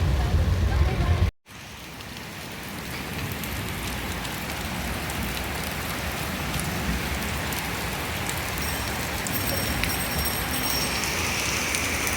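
Heavy morning rain pours down on flooded Dhaka streets in a dense, continuous hiss that stays steady and loud from start to finish, with a brief break near the beginning and faint voices beneath.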